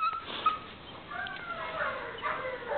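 A dog whimpers in soft, high whines and brief yips, fairly close and moderately quiet, with a few short breaths between the cries.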